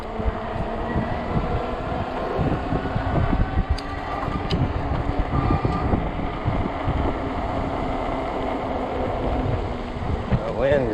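Strong 20 mph wind gusts roar across the microphone while riding an Ecotric 20-inch 48V fat-tire e-bike, a loud rumbling buffeting that swells and eases without a break.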